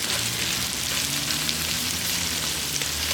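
Onions and garlic sizzle steadily in a pan on a Weber kettle grill as they are stirred, a dense, even frying hiss that runs loud and close throughout with no voices.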